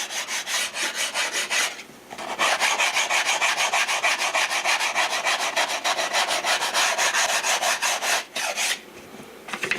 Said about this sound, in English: I'm using 80 grit just to knock it down real fast